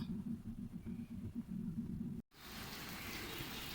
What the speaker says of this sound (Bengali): প্রচুর বৃষ্টি হচ্ছে আজকে তিন দিন পর্যন্ত